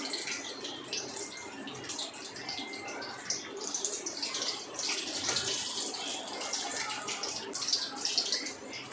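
Pieces of breadfruit drop into hot oil and fry, a dense, continuous hiss and crackle that stays loud and even throughout, with no voices.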